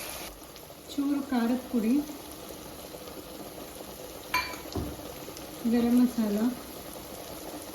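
Capsicum and tomato fry in a pan with a steady, low hiss that runs beneath someone talking throughout, with a faint clink near the middle.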